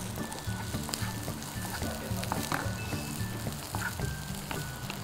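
French beans, capsicum and carrots sauteing in a pan for an Indo-Chinese dish, with a steady crackling sizzle and scattered clicks running under continuous background music or talk.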